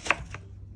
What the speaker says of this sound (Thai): ทำฟักตุ๋นต้องหั่นฟักชิ้นโตๆนะคะ